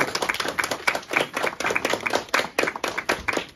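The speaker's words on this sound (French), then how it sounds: "Alors applaudissons Jésus." Wedding guests at a French-speaking church ceremony clap together in a steady, fairly close rhythm of sharp handclaps that runs throughout without pause.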